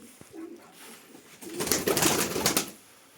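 Breeding pigeons in a coop coo softly at first, then a loud burst of flapping wings and clattering movement swells up close before fading away.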